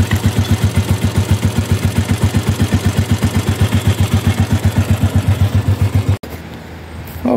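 A 1986 Royal Enfield India Bullet 350 single-cylinder motorcycle idles close by, a loud, even, slow thumping beat that runs steadily for about six seconds before cutting off abruptly, leaving quiet background.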